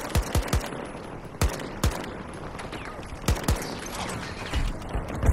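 Gunfire in the video game Battlefield 2042, sharp scattered shots and short bursts, some close and some farther off, over a busy battlefield background of mechanical clatter.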